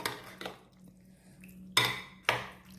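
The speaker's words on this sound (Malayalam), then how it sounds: "നന്നായിട്ടൊന്ന് ഇളക്കി കൊടുക്കാം." A cucumber and carrot salad is stirred in a bowl, with soft scraping and two sharp utensil clinks against the dish standing out late in the stretch.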